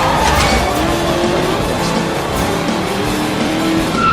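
A car drifting in Stuntman Ignition, its engine roaring loud and close while the tires squeal in a steady, sustained skid throughout.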